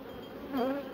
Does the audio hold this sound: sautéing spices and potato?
no